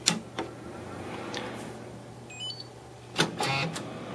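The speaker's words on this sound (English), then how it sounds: "You hear some sounds of the printer turning on" A Sony UP-CX1 photo printer powering up gives a few sharp mechanical clicks and ticks, clustered at the start and again near the end, over a low steady hum from the machine.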